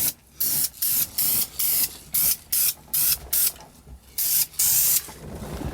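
Short repeated bursts of spray paint hiss as a car dashboard gets a heavier coat, about a dozen close, loud blasts in an uneven rhythm with brief quiet gaps between them.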